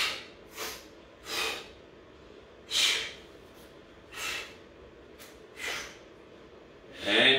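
Forceful exhalations during a shoulder press workout, seven sharp, close breaths out spaced about a second apart, each a short breathy burst over quiet background.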